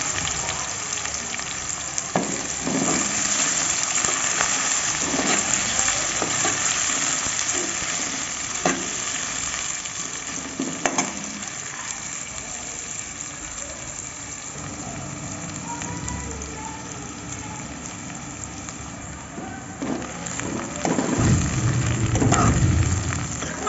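Chopped onions sizzle and crackle in hot oil in a pan for a fish curry, added after the fish was fried, with steady close frying hiss throughout and occasional stirring bursts.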